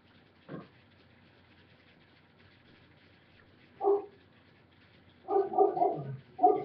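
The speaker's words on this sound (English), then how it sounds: "I don't understand what my dog is barking about." A single dog barks indoors, with scattered barks and yips separated by quiet gaps, then a louder cluster near the end, alone without talk.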